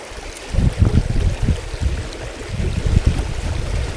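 Water flows in a tiny brook during shoreline fishing, with a close, low, churning burble that swells and eddies continuously.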